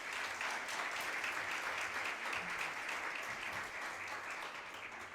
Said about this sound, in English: Let's have another round of applause for our nominees there.